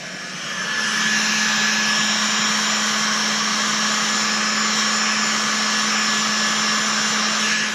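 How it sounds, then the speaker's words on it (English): A heat gun blows on a decal on a Jeep Grand Cherokee SRT, a loud, close, continuous rushing roar that ramps up in the first second and then holds steady. "And with the heat gun, you don't even have to put a lot of pressure on it."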